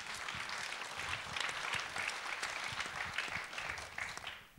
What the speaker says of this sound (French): On peut l'applaudir, oui.